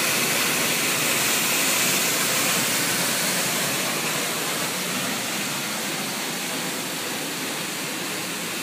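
Dense, roaring rush of Düden Waterfall fills the whole stretch, constant and close, with no speech heard.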